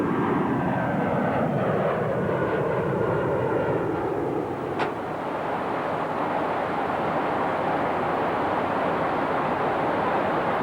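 Boeing 757 jet engines give a steady, loud roar with a sweeping whine that shifts in pitch, continuous and broad throughout, with no voices.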